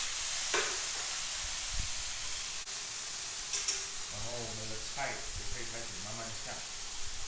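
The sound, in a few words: vegetables stir-frying in a wok for Buddha's Delight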